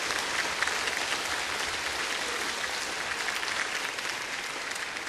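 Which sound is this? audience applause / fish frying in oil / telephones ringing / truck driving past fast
audience applause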